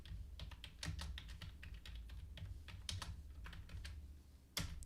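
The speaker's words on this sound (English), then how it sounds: "You can simply come up here and again, type in whatever you like." Someone types on a computer keyboard, a close series of quick, irregular key clicks with brief pauses and a sharper tap near the end, no voices.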